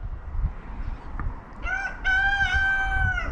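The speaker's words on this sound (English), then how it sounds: "You got to take time to stop and listen to the roosters crow in life." After a moment of low background noise, a rooster lets out one loud, drawn-out crow close by.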